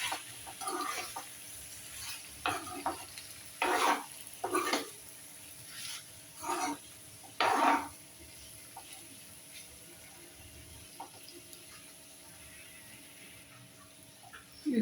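Boiled pasta with vegetables stirred in a pan, a series of short scraping and clattering bursts of a utensil against the pan over a quiet background.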